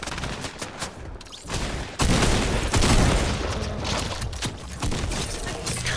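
Gunfire in a shooter video game, loud bursts of rapid shots and a heavy boom in the middle, continuous and close, with no voices over it.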